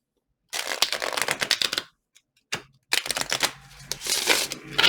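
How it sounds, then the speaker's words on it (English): Tarot cards being shuffled during a Virgo love reading: bursts of rapid, crisp riffling and flicking up close, a brief pause, then longer, denser riffles with no talking. "I'm going to shuffle."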